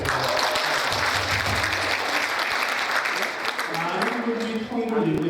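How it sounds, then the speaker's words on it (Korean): A lecture-hall audience applauds steadily after a talk on North Korea, a dense, continuous patter of clapping that holds loud for about five seconds, with a voice faintly present underneath. "박수 한번 주세요."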